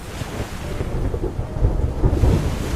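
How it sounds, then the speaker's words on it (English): Heavy storm rain with deep rumbling thunder in the video game Love and Deepspace, rain pounding against cabin windows; a steady low roar that swells louder toward the end, no voices. "Rain pounds against the cabin windows and rainwater quickly accumulates."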